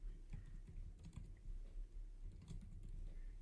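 Typing on a computer keyboard to rename a list in a to-do app, scattered faint keystroke taps in an irregular pattern, quiet and close over low background rumble, with no speech.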